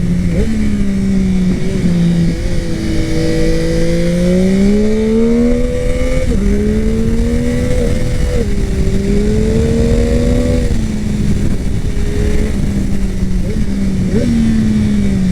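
A 2021 Yamaha MT-09 SP three-cylinder motorcycle pulling hard through the gears, its engine note rising steadily then dropping at each shift, loud and continuous with wind rush, a rider talking over it.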